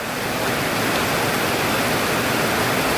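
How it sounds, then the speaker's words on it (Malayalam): Heavy rain pouring down in Kattappana, Idukki, a dense, loud, unbroken roar of downpour that holds steady throughout with no other sounds. "അതിശക്തമായ മഴ കട്ടപ്പനയിൽ"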